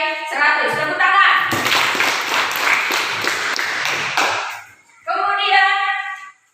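Classroom students break into a burst of hand clapping during an Indonesian civics lesson, lasting about three seconds between stretches of a teacher's speech.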